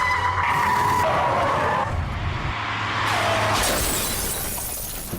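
During a film stunt, a car skids with tire squeal and slams into another car, a loud crunching, shattering impact followed by fading debris and engine noise.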